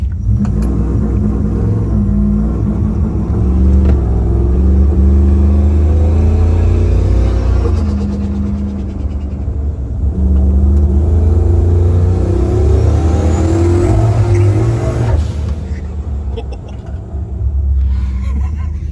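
A turbocharged off-road vehicle engine revs and accelerates under boost, a loud, sustained low rumble that rises and falls through several pulls, dipping briefly near the end before surging again, close and without talk.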